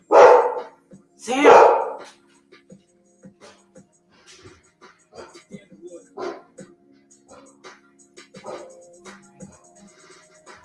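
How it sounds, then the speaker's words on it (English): A dog barks twice, loud and close, then a few fainter yips and scuffling sounds follow while someone talks over them in a quiet room. "it's just a dog"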